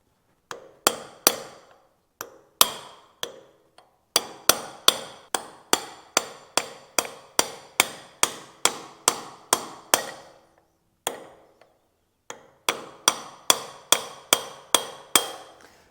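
Hammer blows on the gland of a hydraulic loader lift cylinder from a John Deere 512 loader during a rebuild: loud, sharp metallic strikes repeat in a steady rhythm with brief pauses, ringing close up.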